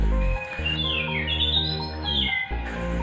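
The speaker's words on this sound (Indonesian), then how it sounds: "dia dengar suara kacer di samping juga ya" An oriental magpie-robin calls in a varied, whistling melody close by, its bright notes rising and falling over a steady low background hum.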